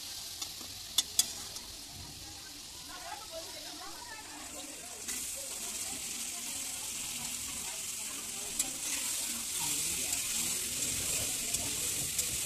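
Chopped onion and potato fry in a pan, a steady sizzle that grows louder midway, with occasional clicks of stirring, close by and under a speaking voice.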